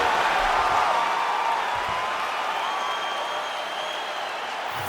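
A crowd at a fight cheers and applauds in a sustained, dense roar that fades slightly over five seconds, with no commentary over it.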